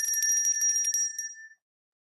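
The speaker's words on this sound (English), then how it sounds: "If I had a bell, which I do around here somewhere, I would ring it." A hand bell shaken briskly, a rapid clanging run of bright ringing strokes that stops and leaves a ringing tone fading into silence.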